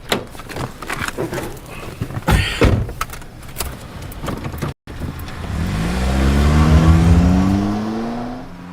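A car door thumps shut near the start, then an engine starts and pulls away, its rising revs sweeping upward and holding loud through the final seconds, with a voice speaking over the early part.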